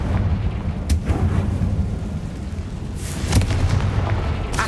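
A Confringo blasting spell exploding in the Hogwarts Legacy video game, a dense, rumbling roar with sharp crackling bursts, loud and sustained throughout with no voice.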